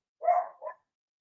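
A dog barks up close, one fuller bark followed straight away by a shorter yip, then silence.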